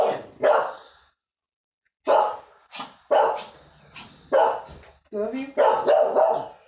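A dog barks in short, sharp bursts, about five separate barks spaced a second or so apart indoors, close and fairly loud, while a person talks between and over them.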